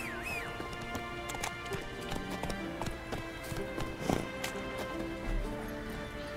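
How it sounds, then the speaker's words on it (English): A horse gallops with steady hoofbeat clip-clops in The Witcher 3, the rhythmic thudding continuous and close throughout, with a brief louder accent midway and game background ambience underneath. "Alright, to me, my horse."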